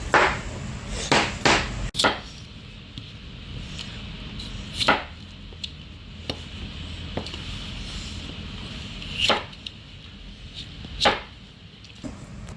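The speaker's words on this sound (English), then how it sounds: "Now let's chop this one up this way like twice." Knife chopping through red potatoes on a board, in a handful of sharp, irregular thuds spaced several seconds apart, close and distinct with quiet pauses between cuts.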